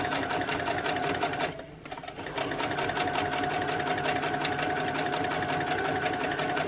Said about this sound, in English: And now I'm stitching each puffer stitch.